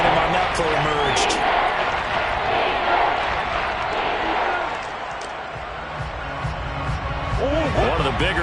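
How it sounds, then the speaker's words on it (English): A football stadium crowd roars before a big third down in a 49ers vs Saints game, a loud sustained wash of cheering that dips briefly midway and swells again, with an announcer talking over it. "The crowd getting into it as we come up on a big third down."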